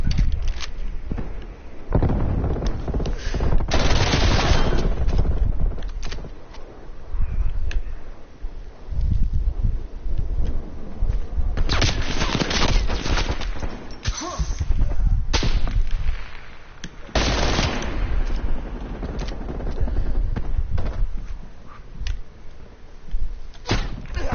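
Sentry turrets in a PS4 shooter fire in repeated heavy bursts, with sharp cracks and booming volleys coming in clusters and short lulls between them, loud and close throughout.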